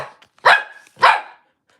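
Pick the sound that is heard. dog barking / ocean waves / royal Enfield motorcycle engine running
dog barking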